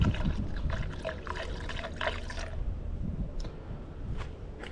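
A 50-50 mix of Dexcool and water coolant pours into a vehicle's coolant reservoir, a steady gurgling trickle that fades out toward the end, with no talking.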